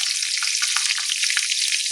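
Green and red chillies hit hot oil left from frying fish, along with black cumin seeds, giving a loud, steady, close hiss of sizzling with small crackles throughout.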